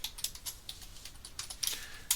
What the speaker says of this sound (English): There's no point in you guys seeing me just typing the same thing.